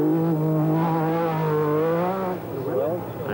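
A 1986 British Open Rally Championship car drives with a failing, increasingly sick engine, a loud whining drone that rises and falls through gear changes before easing off, heard close with a faint voice near the end.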